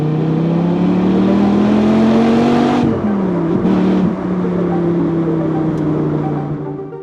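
A Dodge Viper's 8.4-liter V10 sports car engine drones loudly and steadily up close, its pitch climbing as it accelerates, dipping briefly at a gear change around the third second, then settling into a sustained roar.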